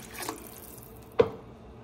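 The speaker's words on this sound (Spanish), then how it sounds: "Voy a ponerle el agua." Water poured into a cooking pot of vegetables already boiling on the stove, a short splashing pour rising briefly out of a steady background simmer, close and fairly quiet.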